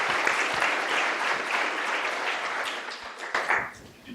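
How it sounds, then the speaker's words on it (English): Audience applause welcoming speakers to a lecture at Stanford: a sustained round of clapping from a seated crowd, steady at first, then thinning and tapering off toward the end. "Please welcome our speakers with a round of applause."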